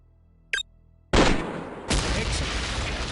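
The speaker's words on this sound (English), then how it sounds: "Now, destroy the target with a grenade." Grenade launcher in Soldier of Fortune 2 fires at a target: a brief thump, then a loud, sustained burst of broadband noise that keeps rolling on.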